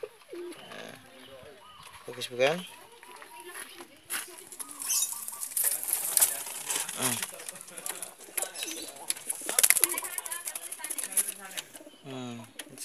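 Racing pigeons coo repeatedly at close range, with wing flutters and scuffling in a loft, while someone talks over them now and then.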